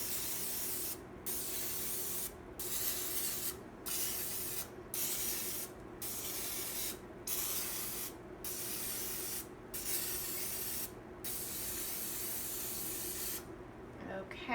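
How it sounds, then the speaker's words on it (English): Spray oil is sprayed into the wells of a muffin tin in short, evenly spaced hissing bursts, about ten in a row, loud and close with brief pauses between them. "so I'm going to use some spray oil. You just want to make sure that you liberally get inside every well"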